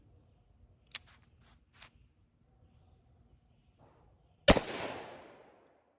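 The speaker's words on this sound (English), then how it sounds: "357 Magnum in the Smith & Wesson Model 27." A .357 Magnum round fired from a Smith & Wesson Model 27 revolver into a car door, heard as one sharp, loud shot with a decaying echo, preceded by a few faint clicks.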